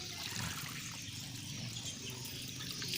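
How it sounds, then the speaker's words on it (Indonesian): Water rinsing through a hydroponic NFT gully during cleaning, a continuous trickling, splashing flow that stays fairly soft and steady throughout. "setelah sudah kita gosok, kita tinggal siram saja seperti ini teman-teman"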